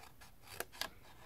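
Scissors snipping paper along a score line: two short, crisp cuts close up, quiet against a soft background hiss.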